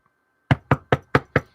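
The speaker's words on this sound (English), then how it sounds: "I woke to the sound of a knock at my door." Five sharp knocks on a door sound in an even, quick rhythm, close and crisp against otherwise near silence.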